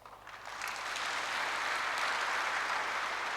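Applause from a church audience for partners, swelling in after a brief quiet start into a dense, steady roar of many hands clapping.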